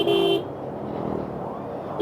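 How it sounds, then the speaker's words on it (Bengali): A vehicle horn honks on a steep mountain road descent, with one short blast, a pause filled by engine and road noise, and a second blast at the end. "ওই যে হর্ন দিতে দিতে আসেন"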